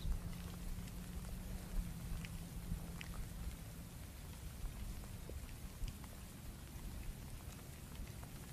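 Rain falling at an outdoor shooting range, a steady, soft, even patter of drops on surfaces throughout, moderately faint, with scattered small taps and no talking.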